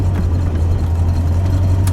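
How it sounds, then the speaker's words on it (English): A Corvette engine idles steadily, a continuous low hum with a strong, even drone and no change in pitch over two seconds. "Seems to be idling okay."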